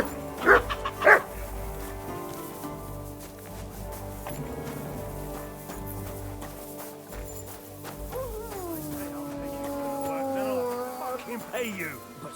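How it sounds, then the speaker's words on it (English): A dog barks in the video game Kingdom Come Deliverance II, two loud close barks early on, then a few more yelps near the end, over game ambience with horse hooves clopping and someone speaking. "Good doggy. Good boy."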